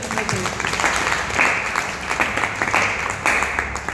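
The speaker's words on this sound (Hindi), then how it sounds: "एक बार जोरदार तालियों से।" Loud audience applause at a Sunday closing wellness business seminar, a dense steady wash of clapping filling the hall for the full stretch with crowd murmur mixed in.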